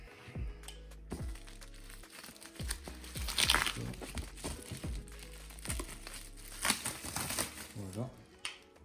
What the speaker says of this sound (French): la boîte elle est encore emballée dans du papier bulle pour éviter les chocs